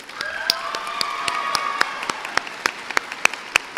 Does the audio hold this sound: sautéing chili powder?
no